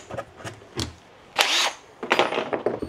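Power drill boring a hole for a rivet nut on a DIY tug boat build, heard in several short bursts with one longer sustained whir, fairly close with workshop handling noise between.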